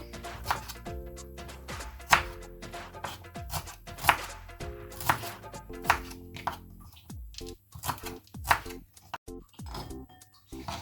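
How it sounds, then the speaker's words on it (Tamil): A knife chopping small shallots on a board, with a series of sharp, close taps at a fairly steady rhythm, some clustered in quick bursts, over a quiet background. "அடுத்து சின்ன வெங்காயத்தை வெட்டலாம்."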